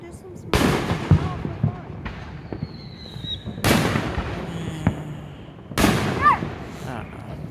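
Fireworks mortar shells bursting outdoors during a Fourth of July celebration: three loud, sharp explosions spaced a few seconds apart, each trailing into crackling debris, with a faint whistle in between.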